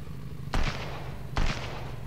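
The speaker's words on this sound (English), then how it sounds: "How far will the grenade fly?" Two separate grenade explosions in the video game Sunkenland, each a sharp, booming burst with a short rumbling tail, spaced under a second apart over a steady low background hum.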